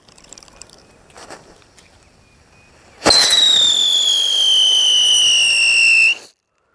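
An Anil brand whistling wheel firecracker ignites with a sharp crack, then lets out a loud, steady, high whistle with bright overtones that glides slowly downward for about three seconds before cutting off abruptly. Faint ambient noise comes before it.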